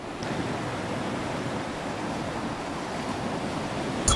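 Atlantic Ocean surf at Agadir, Morocco, forms a steady, broad wash of breaking waves mixed with wind, heard without any voices.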